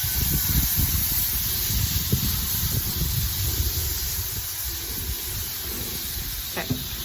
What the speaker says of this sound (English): now I have a squirt bottle with just water